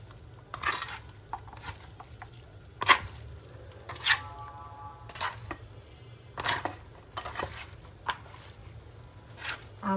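Small kachki fish being mixed with salt by hand in a bowl, soft wet squishes and light clinks coming in separate bursts, close and fairly quiet, with no talk.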